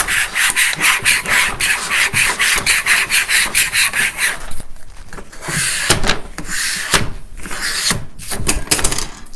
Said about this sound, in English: I got my squeegee.